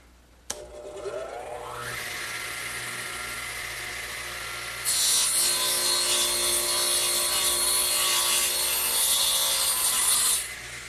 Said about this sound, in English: So I'll just slide it over and run the saw through.